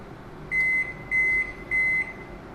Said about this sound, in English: just 7 seconds more, you'll hear the beep.